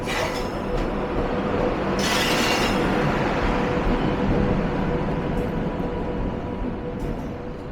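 A steady, heavy rumble of a train fills platform 3 at New Jalpaiguri (NJP) station, with a brief hiss of noise early on and no clear voices.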